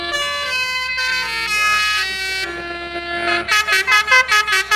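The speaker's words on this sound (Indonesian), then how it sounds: "Kasih telolatnya dulu." A loud, musical multi-tone telolet bus horn in Bus Simulator Indonesia plays a melody, then blasts a rapid series of short, bright honks at the end.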